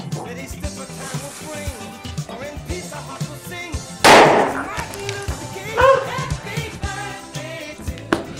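A sharp, loud firecracker bang bursts out around the midpoint, followed by a smaller pop, over a busy background of voices and music at a birthday celebration.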